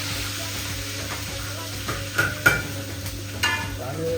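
Bambar frying in oil in a restaurant kitchen: a steady, close sizzle throughout, broken by a few light clinks and scrapes of stirring, with no talking.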